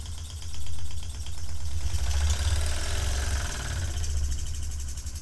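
Empire B-42 double boiler steam engine with a stabilizing plate, running on its forward side alone: a loud, close, continuous rhythmic chugging and rattling that swells slightly partway through, with no voices.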